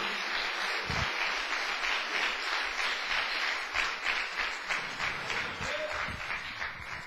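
Church congregation applauding, a sustained patter of many hands clapping at moderate distance, fairly soft and even throughout with a few louder individual claps.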